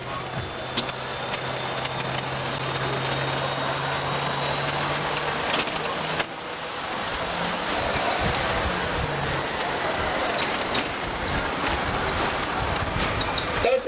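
A tour tram in Vancouver rumbles and clatters along with steady rolling noise, a faint whine early on, and occasional knocks and rattles.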